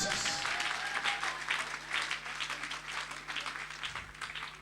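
A church congregation claps and cheers in acclaim of the king of kings, a steady wash of applause that swells and eases over a few seconds, with a low hum underneath.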